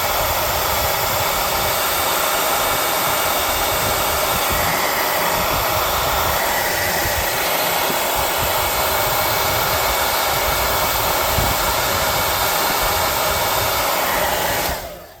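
A hair dryer blows steadily to dry paint on a tabletop miniature post-apocalyptic smelter model, a loud constant close whoosh running unbroken for about fifteen seconds before cutting off abruptly at the end.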